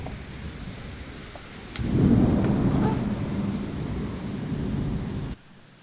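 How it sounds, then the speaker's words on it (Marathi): Rain hisses steadily, then swells into a heavier, rumbling downpour for a few seconds before cutting off abruptly. "इतका पाऊस आलाय बघ"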